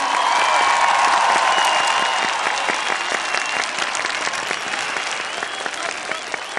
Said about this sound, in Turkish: şimdi büyük bir alkış istiyorum